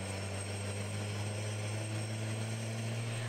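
A military army helicopter drones with a steady low rotor and engine hum, constant and moderately loud, without clear blade chop and with no voices.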